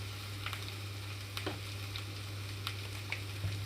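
Onions and bottle gourd pieces frying in a pan, a steady low sizzle with a few sharp clinks and scrapes of stirring, no voices.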